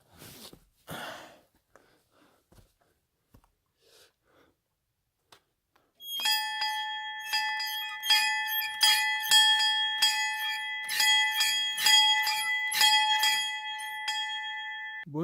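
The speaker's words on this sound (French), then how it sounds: "On va aller sonner la cloche." A summit bell on Monte Barone in the mountains is struck repeatedly, bright ringing strokes with sustained tones layering over one another, following a few quiet footsteps and handling sounds.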